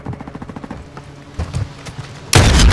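Gunfire in Call of Duty: Modern Warfare 2 Search and Destroy: a rapid burst of close shots up front, a few scattered later reports, then a loud, sustained blast of noise at the end.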